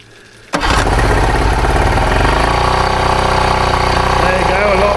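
A 50 HP Tohatsu outboard motor, converted from pull start to electric start, fires up abruptly and settles into a loud, steady running drone close by, with no talk over it.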